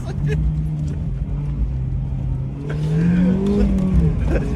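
A BMW car driving fast: a loud, droning engine rises in pitch as it accelerates past. People talk over the engine noise.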